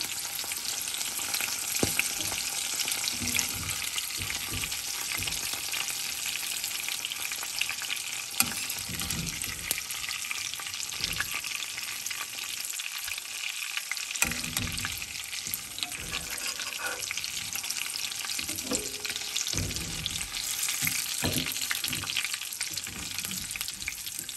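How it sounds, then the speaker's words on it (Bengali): Green chillies fry briefly in hot oil after a street-style fish fry, giving a loud, continuous crackling sizzle with occasional stirring clatter throughout. "এবার কাঁচা লঙ্কাগুলো জাস্ট তেলে দিয়ে উঠিয়ে নিচ্ছি।"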